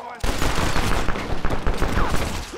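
Chaotic gunshots crack during a saloon fight in Red Dead, a dense loud barrage of overlapping shots that runs nonstop across the clip, with faint voices mixed in.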